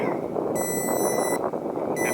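A cell phone jammer's amplifier beeps as its battery dies, a high electronic tone sounding for about a second, then again briefly, over a constant loud fan-like hum.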